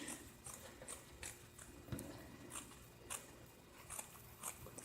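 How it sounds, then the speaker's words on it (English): Scissors snip through fabric while a no-sew purse is trimmed, a quiet run of short, regular cuts repeating close by. "I'm just trimming off a little bit of the extra so it won't be so much."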